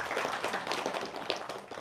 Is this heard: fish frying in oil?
no